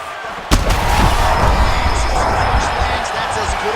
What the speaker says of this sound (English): That's as good a punch as he's thrown all night